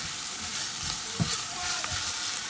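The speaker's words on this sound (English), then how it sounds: "And just give us a quick stir." Ground peppercorns and cumin stirred in a hot pan while making a peppercorn sauce, a short steady sizzle with a few soft scrapes of a spoon, close and unvoiced.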